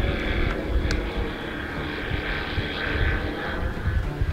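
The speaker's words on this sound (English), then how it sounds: "Guys, it's the same plane." A propeller airplane drones overhead at moderate distance while it circles, a steady buzzing hum with faint swells against outdoor background noise, no speech.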